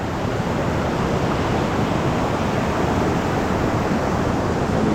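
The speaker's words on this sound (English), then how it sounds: "Some nice cold water coming down." Cold snowmelt runoff rushes down Ribbon Creek in Yosemite, a steady, loud, broadband roar of flowing water with no breaks, close by and alone.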